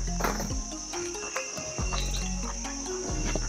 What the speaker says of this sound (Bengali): ঝিঝি পোকার ডাকটা কিন্তু এখানে অপূর্ব লাগছে।